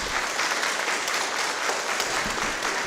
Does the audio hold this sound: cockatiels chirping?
no